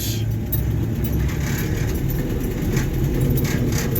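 A 1968 Land Rover Series IIa 88 crawls along in second gear in low range, its engine a steady, loud low rumble with rattling drivetrain and cabin noise, continuous and unbroken.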